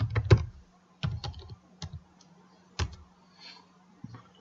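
Computer keyboard typing of a username and password, scattered bursts of quick key clicks at close range with pauses between, over a faint low electrical hum.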